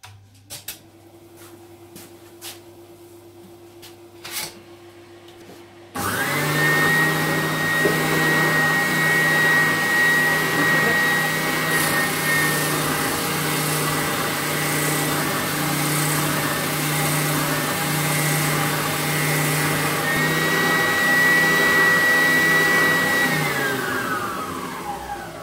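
An oscillating spindle sander with 80-grit paper switches on after a few quiet seconds and sands wood with a steady, loud whine and hum, then winds down near the end.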